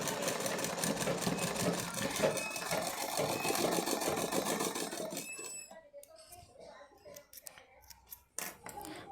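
A sewing machine stitches fabric with a rapid, steady mechanical clatter close by for about five seconds, then stops, leaving scattered handling clicks and rustles with a voice speaking briefly.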